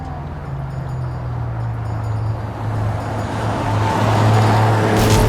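An ice cream van driving in a Hitman game, its engine a steady low hum that grows louder and closer over several seconds, with no talk.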